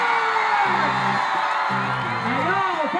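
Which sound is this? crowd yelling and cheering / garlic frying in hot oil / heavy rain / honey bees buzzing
crowd yelling and cheering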